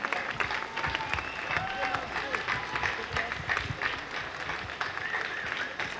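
Outdoor crowd applause at the Walk for Life gathering in Ljubljana on a sunny day, a steady dense wash of many hands clapping throughout, with some voices mixed in.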